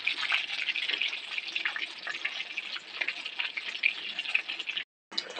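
Shop-style Bengali egg chops fry in hot oil, a dense, continuous crackling sizzle with tiny pops, close and steady, cutting off abruptly for a brief moment near the end before resuming, with no talking.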